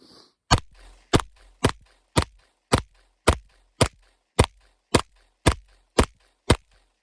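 A Taurus G2C pistol fires about thirteen sharp, evenly spaced shots, one roughly every half second, crisp and isolated with no voices.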